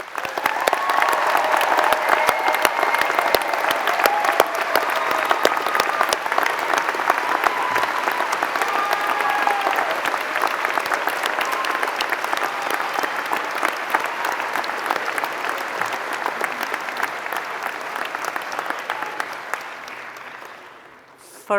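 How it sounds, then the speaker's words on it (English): Sustained heartfelt applause from a crowd at a university graduation ceremony, honouring supporters; dense, even clapping holds steady for about twenty seconds before tapering off, with a murmur of voices beneath. "please join me in giving them a heartfelt round of applause."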